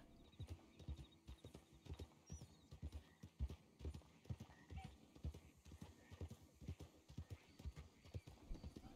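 Horse hooves clip-clop at a steady walking rhythm in the Red Dead Online video game, close and continuous, with an occasional faint whinny and ambient outdoor game sounds behind.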